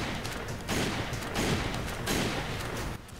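Gunfire in the Resident Evil 5 video game, loud bursts of shots in a few surges that merge into a dense roar before cutting off near the end.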